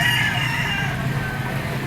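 A chocolate white-legged gamefowl rooster crows at a busy auction market, a loud close call that fills the clip before trailing off, with faint background din.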